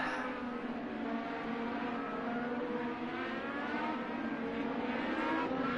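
Steady, continuous engine drone of IndyCar race cars on a formation lap at Texas Motor Speedway in a racing game, a droning, even whine holding level throughout with no voices.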